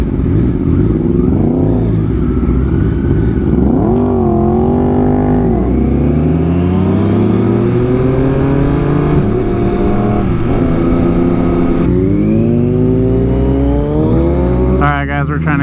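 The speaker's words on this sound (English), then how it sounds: "Bike sounds nice." A motorcycle engine revs and shifts with rising and falling pitch while weaving through heavy Fourth of July traffic, loud and close throughout, with occasional talk over the engine noise.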